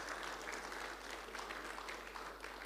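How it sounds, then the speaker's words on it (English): An audience applauds at an agriculture conference: steady, fairly soft clapping from a hall crowd that continues evenly without breaks, with no voices over it. "Another round of applause, please."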